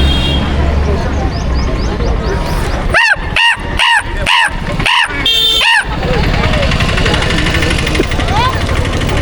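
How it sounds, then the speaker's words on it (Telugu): A dog gives a quick burst of about six sharp barks in the middle, loud and close, over a steady rumbling background noise. "ఇంకా బొచ్చు కుక్క సౌండ్."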